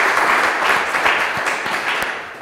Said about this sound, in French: Alors Jérémy Kibimba qui va bien sûr affronter les 3 autres candidats que je vous prie d'applaudir.